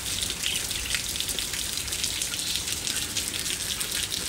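Heavy rain pours down in the US beside a flooded pond, a loud, unbroken wash of patter and splashing heard up close with nobody speaking.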